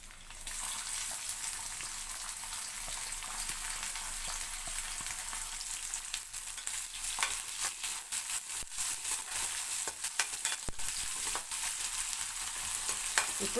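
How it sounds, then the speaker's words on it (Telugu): Okra and onions fry steadily in a pan for a dhaba-style stir-fry, giving a continuous bright sizzle with sharp pops and crackles that grow busier toward the end, and no talking. "ఆనియన్స్ వేసుకుందాం."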